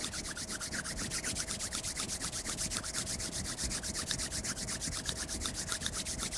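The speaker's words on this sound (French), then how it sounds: "Ensuite, tu frottes fort tes mains comme ça pour avoir une sorte de texture" Palms rubbed hard together with matte hair wax, a continuous rapid swishing friction in quick back-and-forth strokes, close and steady throughout.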